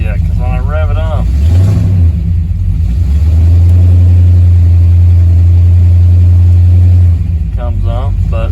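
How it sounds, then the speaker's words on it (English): Close and loud, a 1963 Pontiac V8 idles with a deep rumble, then revs up and holds a steady, higher drone for several seconds before settling back down. Someone speaks briefly at the start and again at the end. "Because when I rev it up,"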